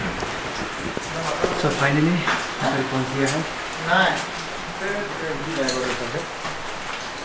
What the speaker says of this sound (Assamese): বৰষুণো দি আছে ফটাফট নামি যাওঁ